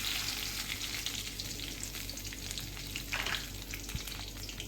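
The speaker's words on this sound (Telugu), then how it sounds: "ఎండుమిర్చి వేసుకొని బాగా ఫ్రై చేయాలి" Cumin, crushed garlic and dried red chillies frying in oil for a ladies finger fry, a dense close sizzle that crackles steadily throughout, with light stirring scrapes and no voices.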